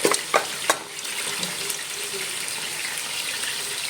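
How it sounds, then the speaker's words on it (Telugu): Soaked ingredient frying in oil with tomato and curry leaves for bottle gourd curry, a steady broadband sizzle with a few sharp spatters and stirring clinks near the start, then an even hiss. "మంచిగా ఆయిల్లో ఇది కొంచెం ఫ్రై అవ్వాలండి."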